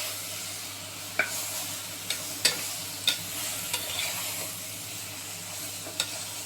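Mushrooms stirred into a pan of frying biryani masala, several sharp spoon scrapes and knocks over a steady low sizzle, close and moderately loud, with no talking.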